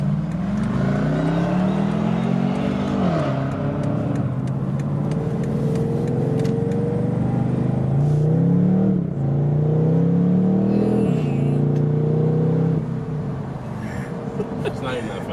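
A BMW M850i V8 in Sport Plus mode revs repeatedly, rising and falling engine sweeps with a throaty tone, loud and close from inside the car, with people talking over it.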